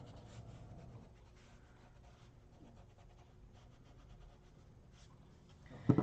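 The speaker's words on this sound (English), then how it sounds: "I can erase these little lines" A pencil eraser rubs back and forth over paper in faint, close scratchy strokes, with brief quiet gaps and a louder knock at the end.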